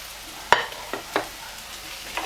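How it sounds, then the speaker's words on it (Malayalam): Ginger-garlic paste, chopped green chilies and curry leaves are sautéed in a pan. Four sharp spatula scrapes come at uneven intervals, the first loudest, over a quiet background sizzle, with no speech. "ഇതെല്ലാം കൂടി ചേർത്തിട്ട് വീണ്ടും വഴറ്റി കൊടുക്കാം"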